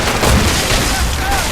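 Heavy booms of naval cannon fire in the video game Assassin's Creed Rogue, with a few deep thuds rising out of a dense, noisy sea battle rumble.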